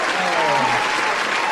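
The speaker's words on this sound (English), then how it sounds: "Hit the round of applause for yourself" A round of applause from a small crowd, dense steady clapping at a loud, constant level, with faint voices mixed in.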